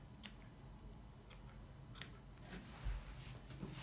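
Scissors snip quietly in short, irregular clicks, several cuts in a row trimming a Havanese dog's fur around the toes, against a faint background hush.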